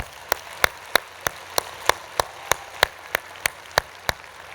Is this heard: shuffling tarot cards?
no